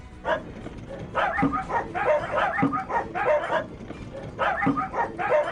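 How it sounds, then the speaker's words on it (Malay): Several dogs bark repeatedly in excited bursts, some yelping, at moderate distance, with a brief pause before the barking resumes. "Ketibaan kami disahut salakan anjing."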